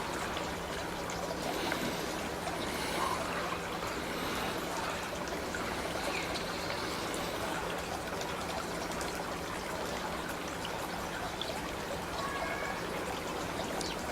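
Water in a garden pond trickles and burbles steadily at close range, a continuous soft wash with no voices over it.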